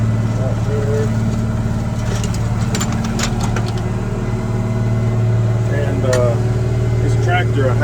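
An International Harvester 5088 tractor pulls a 1970s turn plow through a field, giving a steady, loud engine drone with a constant low throb that holds throughout.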